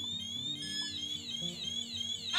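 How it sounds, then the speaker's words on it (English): A RadiaCode 102 Geiger counter's shrill electronic radiation alarm chirps and warbles continuously with steady high-pitched tones, fairly close, over a low hum. "the alarm sounding off"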